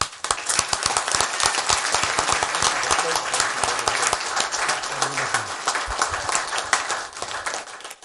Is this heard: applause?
yes